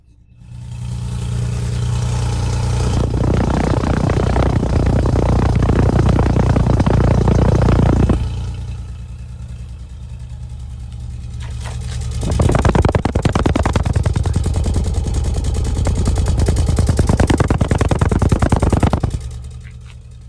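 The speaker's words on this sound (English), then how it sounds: "I'm now turning on the second microphone to get a listen to the exhaust" A 1990 Nissan 300ZX 2+2 sports car's dual exhaust rumbles at idle, then surges loudly in two long revs, with a deep, throaty burble between them.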